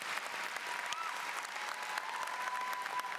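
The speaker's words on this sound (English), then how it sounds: "how about a nice round of applause for all of our parents and teachers?" Sustained applause from a graduation audience at Midlothian High School, a dense, even wash of clapping that holds steady throughout without pause.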